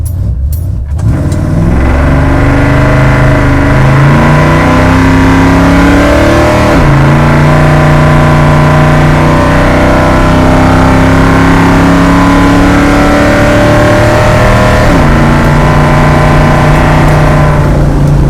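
A 1973 Dodge Dart Swinger engine with a stuck throttle roars continuously at high revs, held loud and steady with pitch shifts, not dropping back to idle.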